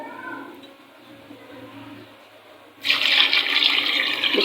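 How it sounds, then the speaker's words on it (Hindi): Water from a glass pours into a pot holding pieces of goat head for a broth, a loud bright rush that starts suddenly partway through and runs steadily after a quiet kitchen stretch. "और इसमें डाल देते हैं 1 गिलास भर के पानी का।"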